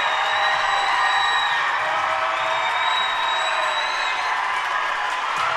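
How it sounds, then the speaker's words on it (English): A basketball crowd at an Evanston Red Devils win over Kelly Walsh roars and cheers in a dense, loud, sustained wash, with shrill whistles and whoops rising above it throughout. "The crowd goes nuts."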